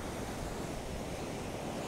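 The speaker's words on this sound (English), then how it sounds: "so you can still hear the water in the background" Ocean waves wash ashore at Malibu Beach, California, a steady broadband roar of surf that fills the background without distinct breaks.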